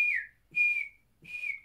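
A toy marmot whistles three times: sharp, high, piercing whistles that each slide slightly downward, separated by short silences, close and clear with no talk.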